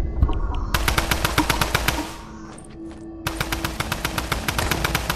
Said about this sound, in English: He was just shooting at me.